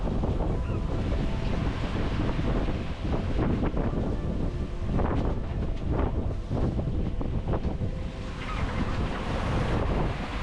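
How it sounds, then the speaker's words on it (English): A squall hits a sailboat crossing the Atlantic Ocean, with loud continuous wind roaring and buffeting the microphone over rushing waves and water around the hull. "Oh yeah, here comes the squall."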